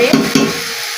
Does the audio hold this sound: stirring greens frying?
yes